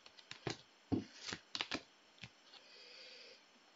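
Tarot cards are shuffled in a quiet room, with a series of quick, crisp riffles and slaps close by, followed by a soft sliding rustle.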